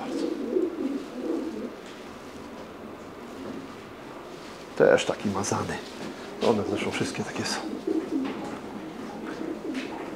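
Breeding pigeons coo softly in a loft. Low, faint murmuring coos run beneath Polish conversation, with a few louder rustles and clicks nearby.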